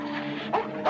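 A dog gives a loud, close bark and then a whimper in a brief burst from an old Thief of Bagdad film. The sound stands alone with no talk over it.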